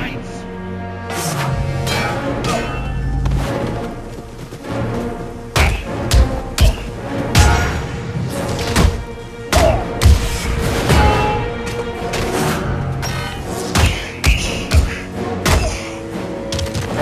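Cannon fire in the Captain America: Super Soldier game, a series of heavy booming thuds and impacts scattered irregularly across a busy battle scene, loud and close, with someone shouting excitedly between blasts.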